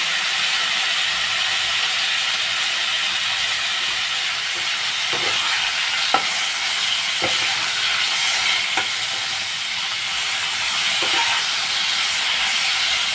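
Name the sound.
frying cauliflower and potatoes in oil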